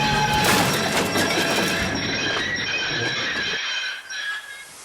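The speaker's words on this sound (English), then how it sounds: "His brakes screeched and his whistle blew," A loud, high metallic squeal of train brakes grinding over rumbling wheels, cutting off abruptly near the end.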